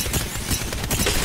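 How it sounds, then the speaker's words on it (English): Gunfire in the battle royale game Apex Legends on the Olympus map: dense, rapid bursts of shots crackle continuously and loudly over a noisy combat background, with no speech. "Listen up, I'm getting shot at."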